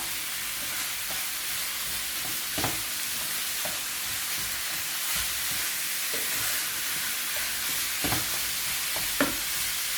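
Minced meat frying in a pan with peppers and onions, a steady soft sizzle broken by occasional scrapes and taps as it is stirred and mashed, with no voices.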